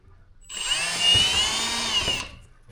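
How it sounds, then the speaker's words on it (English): A power drill whirs steadily through a plastic car trunk panel for about two seconds, spinning up and winding down, close and fairly loud with no voices. "So now I'm gonna continue drilling."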